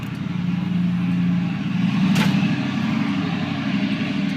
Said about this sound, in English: That guy needs a new exhaust.